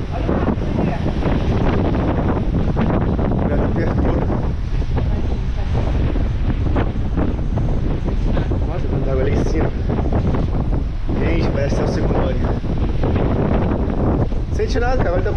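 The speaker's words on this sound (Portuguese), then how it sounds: "tá muito forte o vento." Strong coastal wind at Arraial do Cabo ahead of rain, roaring continuously and loudly across the microphone with gusty buffeting, mixed with surf, while a person talks intermittently.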